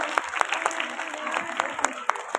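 Scattered audience clapping greets prize-winning students at a Rising Sun Public School New Year 2025 event in Jalpaiguri, with sharp, uneven claps rising over a soft crowd murmur.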